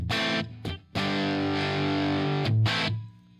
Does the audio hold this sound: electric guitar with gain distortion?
yes